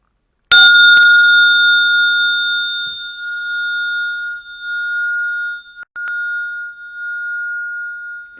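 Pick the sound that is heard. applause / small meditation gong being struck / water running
small meditation gong being struck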